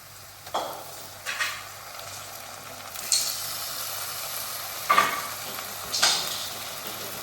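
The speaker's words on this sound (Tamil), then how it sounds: "இப்போ நம்ம இஞ்சி பூண்டு பேஸ்ட் போட போகிறோம்." Ginger garlic paste frying in a pan gives a continuous sizzle broken by five sharp bursts of spatter or stirring scrapes at irregular intervals, close by and without speech.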